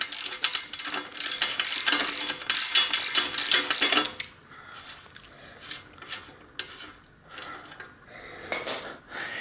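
A homemade thread chasing tool is screwed into a bicycle bottom bracket, producing a dense run of rapid metallic ratcheting and grinding clicks, then slower intermittent scraping turns, close and moderately loud with no talking.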